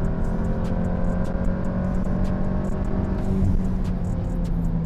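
A flex fuel tuned VW MQB car accelerates hard, its engine note droning steadily with rising harmonics and a whirring intake close inside the cabin, with no talking.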